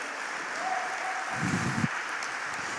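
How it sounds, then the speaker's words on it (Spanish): A church congregation applauding the Lord, a steady, fairly soft wash of clapping from a large room with a brief low thump partway through and no voices on top. "Dale un fuerte aplauso al Señor."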